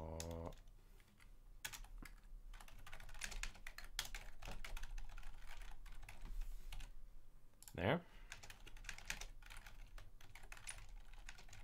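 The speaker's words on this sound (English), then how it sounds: "I got a new keyboard that should be less noisy than the previous one" Typing on a new computer keyboard meant to be quieter, a dense, steady run of close key clicks lasting throughout, with a brief spoken word near the middle.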